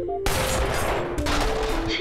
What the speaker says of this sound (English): I just shoot him in the back.